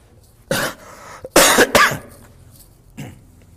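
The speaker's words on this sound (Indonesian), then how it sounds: "Maafkan ya, lagi batuk." Someone speaking during a talk about hydrogen water coughs close to the microphone, with one cough, then a pair of sharp coughs in quick succession, and a softer cough near the end.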